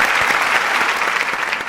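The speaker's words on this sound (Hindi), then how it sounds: "इसके लिए उनके लिए भी तालियां" Dense applause from a studio audience on a comedy talk show, loud and sustained for a short burst.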